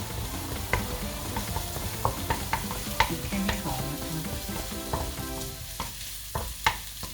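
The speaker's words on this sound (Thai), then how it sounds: "รอสักพักนะคะให้กระเทียมเขาสุกหอมมาเจียวกระเทียมกับ" Garlic frying in oil in a pan for a Thai stir-fried beef with oyster sauce, a steady bright sizzle punctuated by scraping stirs and occasional sharp clinks of a utensil against the pan.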